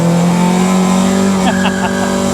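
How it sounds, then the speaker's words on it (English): A Mazda MX5 with an open differential accelerates hard with wheelspin, a loud, close engine drone joined near the end by brief tyre chirps. "But I think we did get a good bit of wheel spin there."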